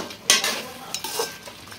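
A spoon scrapes and clinks through chicken cooking in a pan, a few quick stirring strokes over a soft background sizzle.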